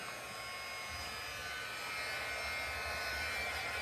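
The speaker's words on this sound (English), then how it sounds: "So now I'm going to run my heat gun just for a second to try and heat it up." A heat gun runs in a crafting setting, giving a continuous, even whooshing hum that stays steady throughout and sounds close and fairly quiet, with no talking.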